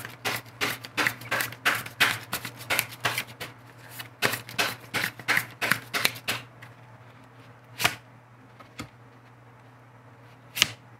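Tarot cards shuffled briskly in a rapid train of crisp riffling slaps for about six seconds, then a few isolated card snaps as cards are drawn, close and clear over a steady low hum.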